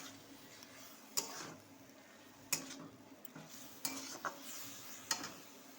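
Chickpea greens (saag) being stirred in a pan, with a soft frying sizzle underneath and several sharp spoon scrapes and clinks against the metal at irregular intervals, fairly quiet and close, with no talking.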